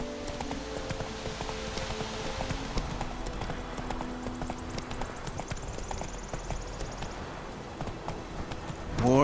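Horse hooves clip-clopping at a steady gallop in The Witcher 3: Wild Hunt on PS5, a continuous rhythmic beat under game music and ambience.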